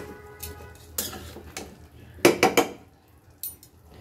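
Turnip and potato are sautéed in a pan. A spoon clanks and scrapes against the metal in a few separate bursts, with quiet gaps in between.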